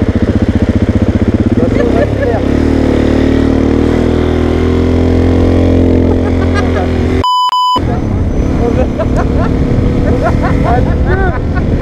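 A motorcycle engine roars and revs continuously, close and loud, its pitch sweeping up and down with gear changes, while a rider's voice talks over it and a brief beep interrupts.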